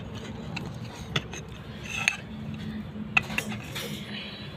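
Cutlery and dishes clink sparsely at a home meal of rice, fried vegetables and fried fish, a few sharp taps over a low steady background hum.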